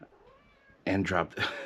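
A house cat meows twice in close succession, loud and near, after a quieter stretch of faint room sound and a person murmuring.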